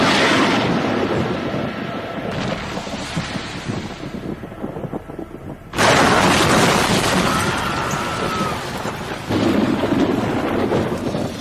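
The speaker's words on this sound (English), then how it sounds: "The nuclear blast is loud enough to deafen my spectral ears." A nuclear blast effect in a Kingdom Come audio drama roars as a sustained, loud rumbling wall of noise, with a sudden harder surge partway through and a further swell near the end.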